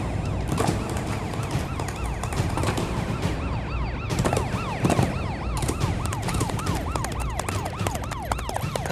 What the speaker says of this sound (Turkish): Ambulansı aradık hemen geliyor.